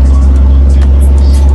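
A lifted heavy truck, a VM raised on 38 springs, with its engine accelerating: a loud, steady low diesel rumble fills the whole moment, close by, with no pause in the drone.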